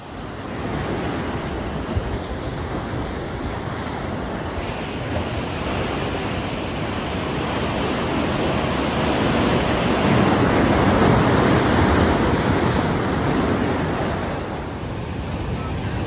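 Sea waves surge into a narrow coastal rock gorge at low tide during rain, a continuous loud roaring wash with wind buffeting the microphone, swelling slightly in the middle.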